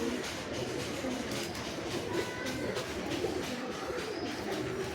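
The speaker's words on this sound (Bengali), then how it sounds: "কালপোড়া কালদম পায়রা" A Kalpora Kaldom pigeon coos softly in the keeper's hands, low repeated coos over a constant busy background hum, with no talk.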